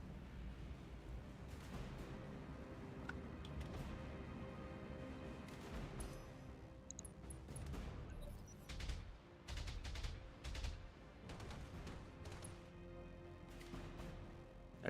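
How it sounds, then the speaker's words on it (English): A striker gun turret fires volleys of shots in the BattleTech game. The rapid bursts of gunfire sit fairly faint over a constant rumbling battle background, and a denser cluster of shots comes in the middle. "That striker turret missed all of its shots, which sucks."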